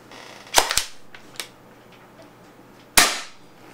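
A Spyder Hammer 7 .68 caliber paintball marker fired on an HPA tank: a loud sharp double crack early, a fainter pop after it, then another loud shot near the end, close and dry.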